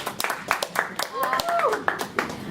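A workshop audience claps in scattered, uneven bursts. Several sharp slaps ring out close by while someone talks over them.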